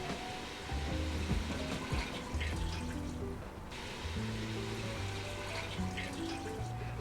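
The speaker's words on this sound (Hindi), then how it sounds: "अब हम इसके अंदर 2 ग्लास पानी डाल देंगे।" Water poured into a pot of mutton cooking with cinnamon stick and cardamom, a steady, quiet splashing and trickling stream that runs for the whole stretch against a faint background hum.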